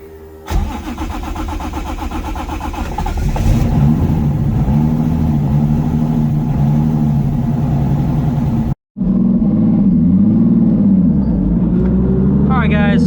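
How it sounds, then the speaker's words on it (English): A Toyota 2JZ engine swapped into a Nissan S14 cranks, catches and settles into a loud, rough idle, with a few throttle blips and a brief cutout before it rumbles on. "I'm going to get the car all warmed up"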